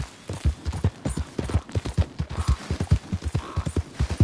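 Horse hooves gallop at a fast, even rhythm in Red Dead Redemption 2, with a loud, close clip-clop that keeps going throughout and has no talk over it.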